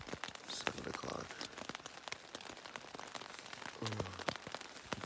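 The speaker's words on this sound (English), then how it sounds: "It's been raining since 2 a.m. pretty steadily." Irregular pattering of steady rain on a surface nearby on the Pacific Crest Trail in Washington, with scattered sharper drops and a brief low murmur partway through.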